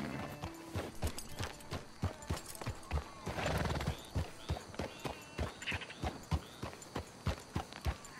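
Horse hooves clip-clop in a steady, even walking rhythm in the video game Red Dead Redemption, close and clear, with a brief soft whinny partway through.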